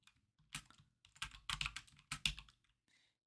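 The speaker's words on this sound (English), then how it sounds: "And then you just keep typing out columns." Someone types on a computer keyboard in short, irregular bursts of close, crisp key clicks, separated by brief pauses while column names are entered.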